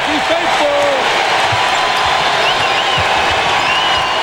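Steady roar of the Kentucky home crowd at Rupp Arena during a college basketball game against Tennessee, loud and continuous, with a basketball bouncing on the court and a commentator talking over it.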